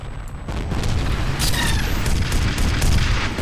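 Missile explosions in the F.E.A.R. video game, a loud, continuous rumbling boom with crackling bursts layered on top, dense and close for several seconds without talk.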